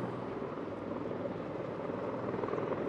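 A Marine V-22 Osprey and an attack aircraft departing together at an aircraft demonstration in Arlington Park, a steady, heavy rotor drone with a deep throbbing beat, loud and sustained without pause.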